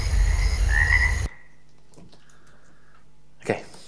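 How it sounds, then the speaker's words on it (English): Frogs croaking loudly up close in a Unity audio demo, a dense rasping chorus that cuts off abruptly into near silence, followed by a faint voice and a brief soft thump. "get a little bit of sort of a reverby effect on the frogs"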